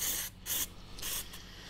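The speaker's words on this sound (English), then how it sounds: "I've got a little bit of brake cleaner here and a bit of a clean rag." Brake cleaner hisses from an aerosol can onto a clean rag in a few short bursts, close and fairly quiet, with no talk.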